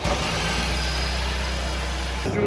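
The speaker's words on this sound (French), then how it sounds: "c'est cette outil qui en fait vient faire tourner le moteur. En fait c'est un démarreur" A Ferrari Formula 1 car engine is spun by an external starter tool at a race circuit, giving a steady, loud, low droning whir with a buzzing pulse that runs unbroken and then cuts off near the end.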